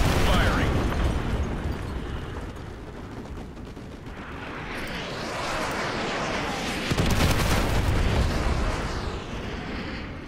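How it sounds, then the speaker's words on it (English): Artillery strike explosions in Call of Duty Modern Warfare 2 roar as a dense, continuous barrage of heavy booms and rumble, swelling again partway through, with faint voices underneath. "use your laser designator to call in artillery on those vehicles"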